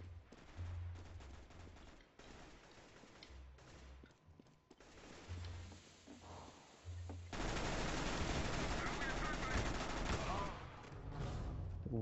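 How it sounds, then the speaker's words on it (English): Counter-Strike: Global Offensive gunfire crackles in short bursts at first and then swells into a loud, sustained volley of automatic fire over the last few seconds, with a voice talking intermittently underneath. "It took me so long to shoot him up"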